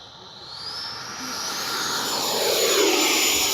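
FMS 80mm F-86 Skyblazers RC jet making a low, dirty pass with gear and flaps down: a loud ducted-fan whine and rushing hiss that builds steadily as it nears, with a rising pitch sweep.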